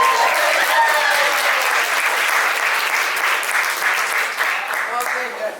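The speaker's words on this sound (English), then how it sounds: "Give him a round of applause." Loud, sustained applause from a crowd at a political campaign event in Cedar Rapids, dense clapping that stays strong throughout and softens only slightly at the end.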